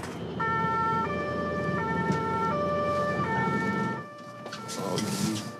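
An ambulance siren wails loud and close in a steady repeating two-tone cycle, then cuts off abruptly, leaving a brief muffled stretch with faint voices and rustling.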